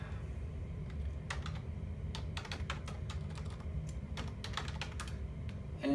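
Computer keys tapped in irregular bursts at an office desktop workstation, crisp clicks over a steady low room hum, fairly quiet and close with no talking.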